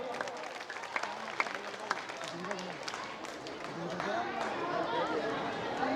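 Audience applause at a secondary school annual function, a broad steady wash of many hands clapping in a hall with crowd chatter mixed in throughout.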